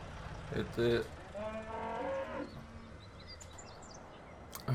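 Cattle low with a couple of drawn-out moos in the Farming Simulator 17 game, set against a faint ambient hiss with a few distant bird-like chirps.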